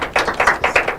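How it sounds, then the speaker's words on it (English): A short burst of clapping for competing schools at an inter-collegiate quiz and debate contest, about eight sharp, evenly spaced claps close by. "A round of applause for them."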